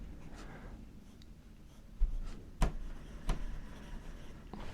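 A fountain pen nib writing on paper with Lamy special edition ink, faint scratchy strokes with a few sharper taps and ticks, close and quiet with no talk.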